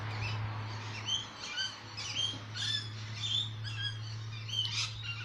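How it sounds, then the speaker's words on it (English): Birds chirp and tweet outdoors in a series of short bright calls repeating across the clip, moderately near, over a steady low electrical hum, with no talk. "Listen to the birds, isn't that beautiful?"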